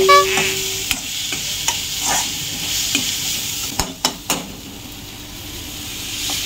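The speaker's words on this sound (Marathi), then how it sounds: "हा अद्रक लसूणची पेस्ट टाकली आता." Ginger garlic paste sizzles and fries in a hot pan of green chillies while pav bhaji is cooked in a home kitchen, a steady hiss broken by a few sharp clinks and stirring knocks.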